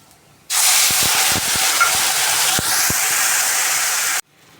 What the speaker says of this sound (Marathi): थोडंसं गरम पाणी घालून घेऊया